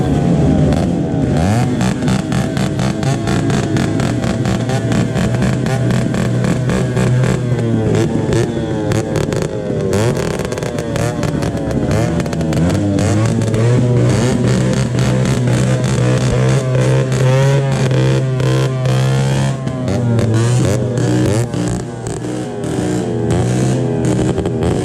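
Several motorcycles rev loudly on a village street at New Year, a dense, unbroken engine roar with repeated throttle blips and rising and falling pitch that lasts the whole time, close by and with no talk.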